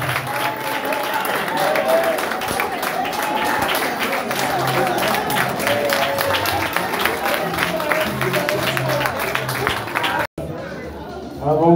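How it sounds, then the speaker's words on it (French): Wedding guests at a civil and religious ceremony in Grand Lahou applaud and cheer the bride, dense sustained clapping with crowd chatter and voices throughout, loud and close, cutting off briefly near the end. "On continue de les ovationner."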